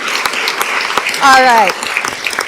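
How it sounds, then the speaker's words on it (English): Applause at a school board of education meeting for first-, second- and third-year teachers: a steady crowd clapping through the clip, with a voice briefly speaking over it. "let's also give some love and a round of applause for our first, second, and third-year teachers"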